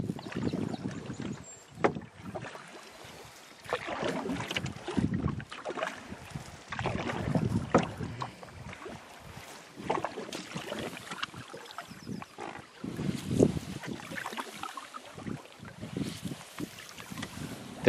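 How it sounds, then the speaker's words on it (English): Canoe paddling on a calm, foggy lake at dawn: soft, rhythmic paddle strokes and water swishes repeat every couple of seconds, close but faint, with light wind noise and no talk. "There is nothing quite like canoeing on a calm and misty morning."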